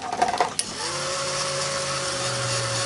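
Electric heat tool starting up and running steadily for heat setting a craft project, a constant whirring fan hum with a high whine after a few brief handling clicks, close and alone.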